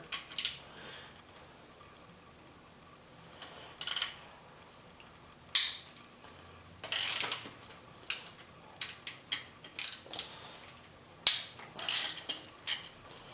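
Sparse, close ratcheting clicks and metallic snaps come from belt tensioners being slowly loosened during a Porsche Boxster 986 / 911 Carrera 996 engine rebuild, with quiet gaps between each burst.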